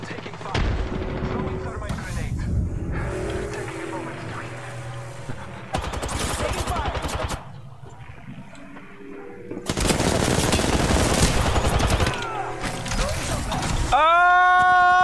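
Bursts of automatic gunfire from the video game Apex Legends crackle loudly in several clusters separated by quieter gaps. A game voice speaks between the shots.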